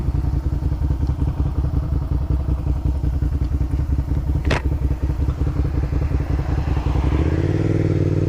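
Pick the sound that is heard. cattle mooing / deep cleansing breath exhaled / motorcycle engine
motorcycle engine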